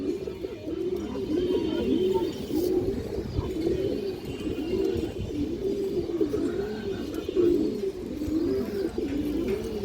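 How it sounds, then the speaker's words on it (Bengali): A Hurricane-line female pigeon coos repeatedly in a steady rolling rhythm, close and clear over a faint background hum, with no talking. "আর একটা হারিকেন লাইনের মাদি কবুতর আছে"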